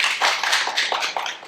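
A small seated audience applauds at a high school exam-strategy seminar, with close, uneven bursts of hand claps.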